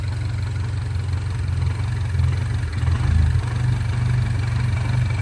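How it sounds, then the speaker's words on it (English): A MINI Cooper S with the N18 engine idles steadily with a low, even rumble, its pitch wavering slightly and swelling a little midway as it runs somewhat choppy, no voices over it. "Runs relatively smooth, pretty much stock N18 sounds."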